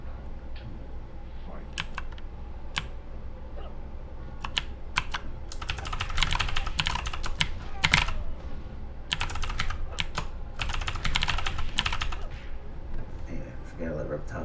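Frantic bursts of close keyboard typing and key mashing during a Mortal Kombat game, intermittent clusters of sharp clicks with brief gaps, a voice faintly present underneath.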